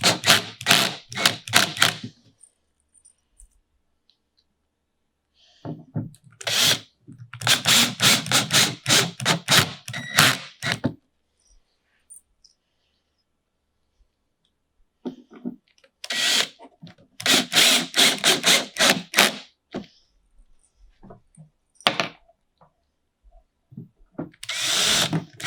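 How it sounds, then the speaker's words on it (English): A power driver runs screws into the back of a reptile vivarium rack, several separate bursts of loud whirring and ratcheting a few seconds each, separated by silent pauses. "we get these back screws in"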